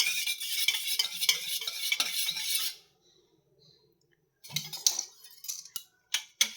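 Egg, milk and oil whisked together in a bowl for chocolate cake batter, a close rapid rasping whir that stops for a moment, then returns in short bursts.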